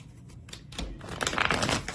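Tarot cards being shuffled, a soft quiet riffling and crisp flutter of card stock that builds toward the end, with no talking.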